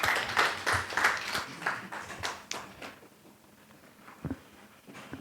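An audience at a public procurement stakeholder meeting gives a short round of hand clapping, moderately loud at first, then thinning out and fading to quiet within a few seconds.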